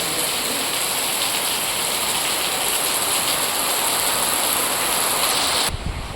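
Heavy first monsoon rain pours down in a loud, unbroken hiss of dense drops striking surfaces nearby, steady for several seconds before cutting off abruptly at the end.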